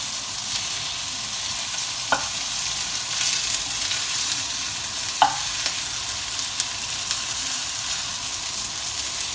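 Meatballs for pasta sear in a frying pan with a steady, close, bright sizzle, broken by a few soft clinks and stirring scrapes.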